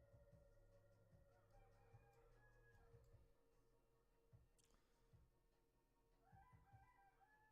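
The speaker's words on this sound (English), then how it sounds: "Do you guys hear that rooster? He's like just going at it right now." A rooster crows outdoors, fairly faint and at a distance, repeating in bursts over a low steady background hum.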